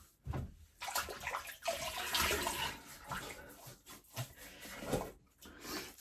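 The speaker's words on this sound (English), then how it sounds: "A little bit of water, just to soften the bristles." Water splashing and trickling in a sink as a 26 mm synthetic shave brush is wetted to soften its bristles, with irregular bursts of running water and handling noise, close and fairly loud.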